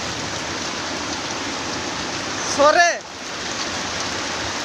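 Steady heavy rain falls in a dense, even hiss on a flooded street seen from a shop, with a brief voice rising over it midway.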